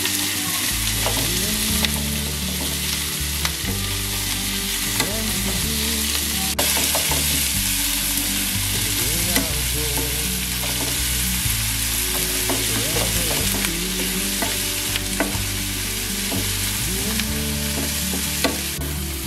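Capsicum stir-fried in a pan for fish chilli gives a loud, constant sizzle, with a spatula repeatedly scraping and tossing the pieces throughout.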